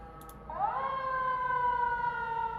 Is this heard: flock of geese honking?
no